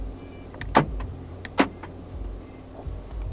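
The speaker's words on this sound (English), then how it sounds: "Central locking." Two sharp mechanical clunks a moment apart, the central locking of a 2012 Audi A1 1.4 TFSI actuating, inside a quiet cabin with a faint background hum.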